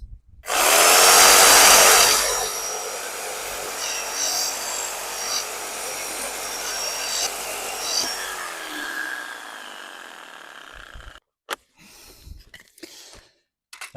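A reciprocating saw cuts into a clay soil pipe, opening with a loud harsh buzzing burst, then settling into a steady rasping saw drone that stops abruptly, followed by a few faint clatters.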